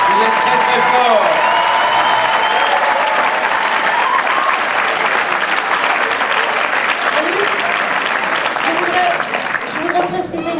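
Sustained, thunderous applause from a school audience after a Verdi Don Carlos performance roars steadily for several seconds, with voices calling out over it, before it thins slightly at the end.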